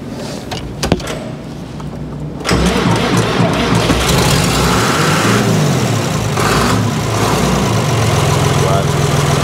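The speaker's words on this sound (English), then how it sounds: "When I do start her up here, she'd probably give a little bit of a roar," A 3040 tractor engine cranks and catches around the two-second mark, then runs loud and close with a rough, throaty roar, rising and falling as it is revved, with a clunk or two before it starts.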